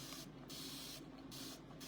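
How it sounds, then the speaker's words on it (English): Water spritzed from a spray bottle to clean a chalk transfer stencil, three short hissing bursts in quick succession, close and fairly loud. "I'm just spraying a little bit of water."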